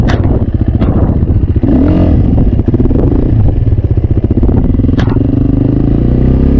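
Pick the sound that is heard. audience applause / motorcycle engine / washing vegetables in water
motorcycle engine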